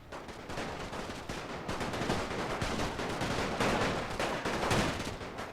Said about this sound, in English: Get into position and open fire immediately.